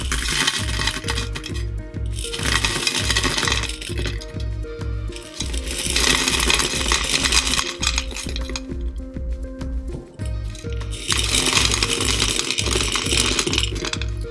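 LECA expanded clay pebbles pour and rattle in waves of dense, dry clinking, swelling in bursts around a steady low rumble, close and loud with no voices.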